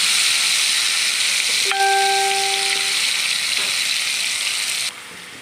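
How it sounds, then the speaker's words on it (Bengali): Marinated chicken fries in ghee over high flame, giving a loud continuous close sizzle and hiss, with a brief tonal squeal partway through and the sizzle dropping slightly near the end. "এরপর আমি ম্যারিনেট করে রাখা চিকেনগুলো আমি একটু ভেজে নেব"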